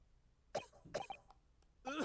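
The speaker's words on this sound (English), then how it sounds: "The coughing is really disturbing to watch." Three harsh, close coughing fits ring out from a character in the Great Ace Attorney video game, each a sharp burst with short rasping tails and brief gaps between them.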